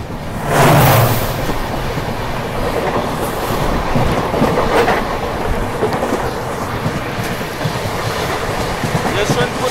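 A diesel-hauled passenger train on the Miraj to Bangalore route rolls along the rails with a loud, continuous rumble and rattle heard from onboard, with a brief heavier roar near the start and a voice speaking over the noise.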